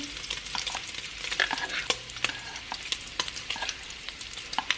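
Bacon frying in a pan for beef pot pie, a close crackling sizzle with frequent sharp pops and spatters scattered irregularly throughout.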